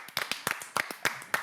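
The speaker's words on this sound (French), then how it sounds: "applaudissements" A studio audience on a French comedy show claps in a short, uneven burst, with close, sharp hand claps sounding at an irregular pace and no voices heard.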